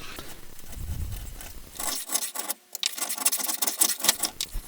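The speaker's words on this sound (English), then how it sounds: "For the new lower suspension bolt to fit right, we have to file in the groove deeper." A file rasps back and forth, deepening a groove for a lower suspension bolt during a Trabant 601 front-axle rebuild. The strokes are quick and uneven, close up and fairly quiet, with no talk.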